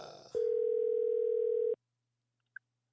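A steady telephone dial tone plays while a call is placed to a guest, sustained for over a second before cutting off abruptly, followed by a short faint electronic blip. No one speaks over it.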